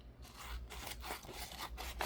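Scissors trimming paper for a junk journal, a steady close rasping of blades through paper with faint repeated cutting strokes and no talking.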